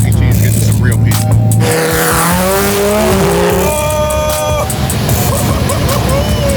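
Tires squeal sharply with rising and falling pitched screeches over loud engine roar as a 1,200 AWHP Nissan GT-R drag races Travis Pastrana's 2020 Subaru STI Gymkhana car, up close and continuous.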